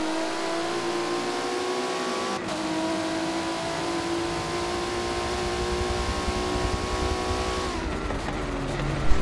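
Prototype race car engines at Daytona in a racing video game drone continuously at a high, steady pitch, with a brief shift in engine tone partway through and a small bump near the end, no talking.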